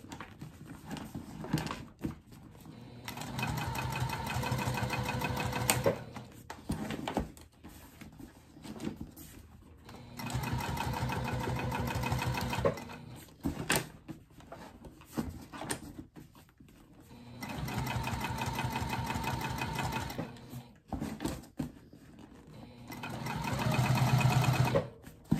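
A sewing machine stitches a crossbody bag in four long runs of rapid mechanical chatter, each several seconds, separated by short pauses and quieter handling noises.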